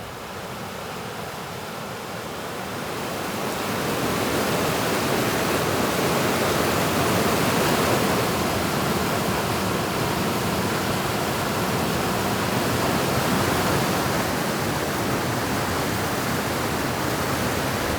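Steady, full roar of High Falls waterfall in Algonquin Park, rising after the first couple of seconds into a constant, loud rushing wash with no talking.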